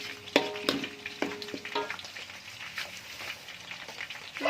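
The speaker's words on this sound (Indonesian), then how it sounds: "Kita goreng menggunakan api kecil saja." Chicken fries in soto broth with palm sugar over a low flame, giving a close, steady sizzle broken by sharp clinks and scrapes of stirring.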